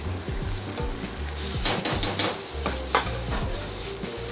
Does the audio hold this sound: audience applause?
no